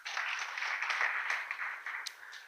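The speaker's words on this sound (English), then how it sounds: "So let's clap for our senior members." A seminar audience of the Kenya Bankers event applauds senior members steadily, dense clapping from many hands, moderately distant and fairly even throughout.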